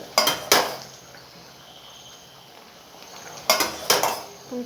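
A spoon scrapes and clanks against a pot in two quick pairs of strokes, stirring idiyappam dough mixed with boiling water, separated by a quiet pause, with no talking.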